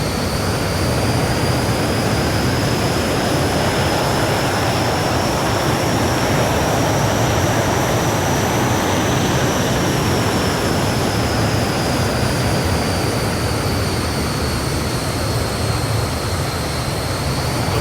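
A BAE Hawk Red Arrows jet taxiing in Microsoft Flight Simulator, a loud, steady engine roar with a high whine that rises and falls slightly, continuous and close.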